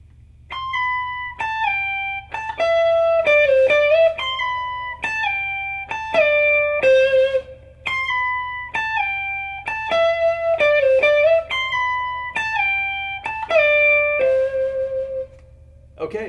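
Electric guitar riff from a song built on slides and pull-offs, played as a steady run of clear repeated note phrases with small pitch glides over about sixteen seconds, alone and fairly loud.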